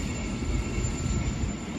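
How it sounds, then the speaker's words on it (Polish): A freight train passes near a river and bridge, giving a steady, loud rumble of rolling wagons with a faint high whine, continuous throughout and with no voices. "Czasami też te towarowe pociągi przejeżdżają."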